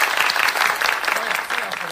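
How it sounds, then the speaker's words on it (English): A room full of people gives a steady round of applause and cheering at a religious radio show gathering, dense clapping sustained throughout at close range. "the Lord a round of applause for that"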